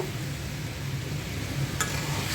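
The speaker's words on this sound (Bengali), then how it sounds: "পটলগুলো দিয়ে দিচ্ছি। পটলটাও মশলার সাথে কষিয়ে নেব" Pointed gourd pieces fry in cooked spice paste with a steady, even sizzle close by and one brief clink near the end.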